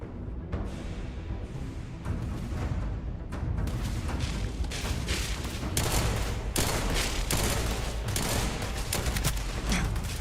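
Dense rapid gunfire from a weapon in the video game Starfield, a loud sustained barrage of overlapping shots and booms that fills the whole stretch with almost no pauses.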